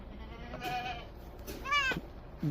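Boer goats bleating on a goat farm, with a few wavering bleats of varying length over about two seconds and a short low grunt at the end, heard at moderate distance against quiet farm background.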